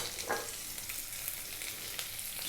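Sliced onions and curry leaves sizzle in a hot pan for a vegan vegetable curry, a steady close hiss of frying with faint stirring, no voices.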